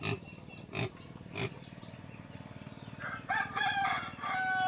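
A rooster crows in a rural Lao village, its long, loud calls rising near the end after several short bursts from other animals, with a steady rhythmic hum underneath.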